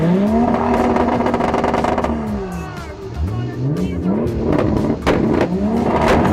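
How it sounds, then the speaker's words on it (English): A loud car engine revs up and down repeatedly at a car meetup, rising and falling in pitch, with sharp popping crackles from the exhaust between revs. "You can hear the cracks of the engine, building up the energy."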